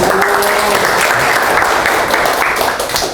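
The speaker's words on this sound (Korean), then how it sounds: "박수 한번 주십시오." A crowd claps loudly and continuously at a training seminar, dense applause filling the room, fading slightly at the very end.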